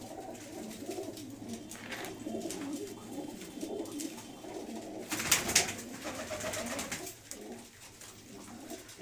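A 13-year-old pigeon coos softly in a loft, low throaty rolling calls repeating under a murmur of room noise, with a brief louder rustle midway.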